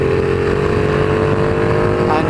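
A Ducati Panigale motorcycle engine roars loudly and steadily as the bike passes another vehicle, a dense sustained drone filling the short stretch with no speech over it.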